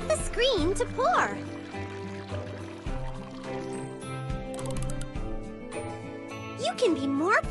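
Cartoonish liquid pouring into a glass in a dessert-making game, with bright, sliding tones and tinkling accents, set over steady game music from start to finish.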